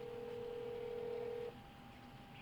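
Telephone call-transfer tone on a phone line: a steady held tone for about a second and a half, then a quieter continuing line tone with faint hiss, no voice.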